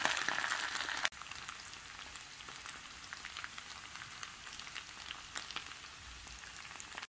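Chicken thighs coated in mustard simmering in a pan over medium heat, giving a faint, steady bubbling and soft crackle like light rain, with a brief louder burst at the start.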